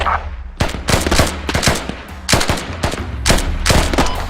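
Coordinated gunfire in the tactical shooter Squad: loud, close bursts of machine-gun and rifle shots crack in rapid volleys, clustered in several rhythmic waves across a few seconds with no talk.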